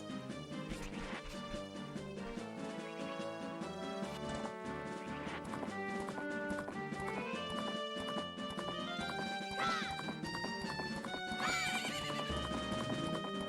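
A horse neighs and trots in Zelda: Majora's Mask on the N64, the hoofbeats and whinnies laid over continuous loud game music.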